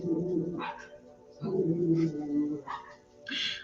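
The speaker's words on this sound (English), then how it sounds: "I'm sorry you guys are hearing the dogs in the background" Dogs bark and whine outside, fairly close and loud, in repeated uneven bursts with brief pauses between them.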